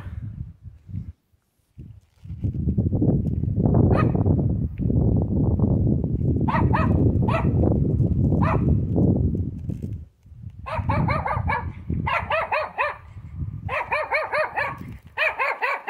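A dog barks repeatedly at close range, sharp yaps in rapid bursts after a stretch of low rumbling noise.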